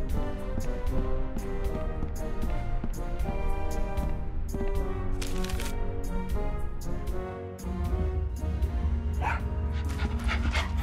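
A small dog barks and pants in the Tales of Monkey Island video game, with steady background music playing throughout.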